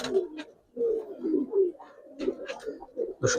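Giribaz pigeons, a colouring breed, coo in low throaty bursts close by, several overlapping calls with short pauses between them.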